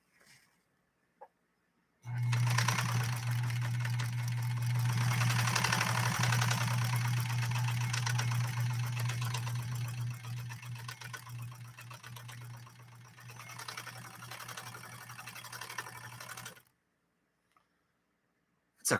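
A Pfaff 130-6 sewing machine stitches steadily for about fourteen seconds. Its close motor hum carries a rapid, even needle rhythm, and it starts and stops abruptly.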